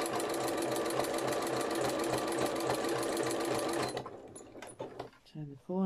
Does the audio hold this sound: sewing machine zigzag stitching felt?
yes